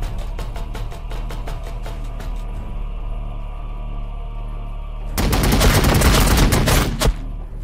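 Heavy gunfire in Warhammer 40000 Battlesector: rapid automatic bursts at a steady rhythm, pausing briefly, then a louder dense fusillade of overlapping shots near the end.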